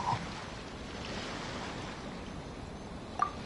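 Gentle ocean waves from a video game wash steadily as a soft, even surf with a breezy hiss, holding a constant level throughout, with a faint chime near the start and another near the end.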